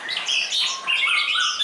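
A competition songbird, a five-month-old bird in a cage, sings a bright, busy run of high chirps and warbling phrases, close and continuous with no talk.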